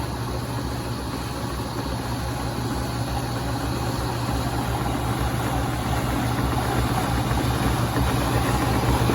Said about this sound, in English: Bushings are working good, everything's rotating, the motor's working good.